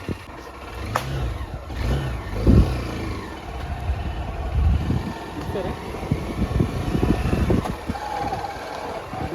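A motorcycle engine revs and accelerates up close, its pitch rising and falling against gusts of wind noise, with voices briefly mixed in.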